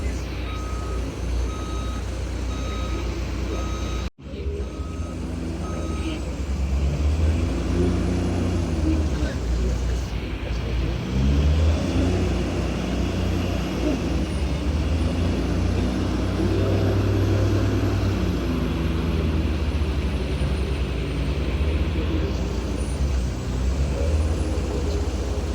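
A truck arriving and backing up in a yard: an evenly pulsing reverse beeper, a sharp air-brake hiss, then a steady diesel rumble, with someone talking throughout.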